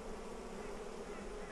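Honey bees buzzing around an opened Flow Hive during a split, a close, steady drone of many wings without break.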